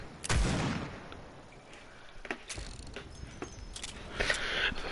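Gunfire in the video game Overwatch, heard as a series of booming shots and crackling bursts at irregular intervals, fairly loud, set against a steady background of game effects.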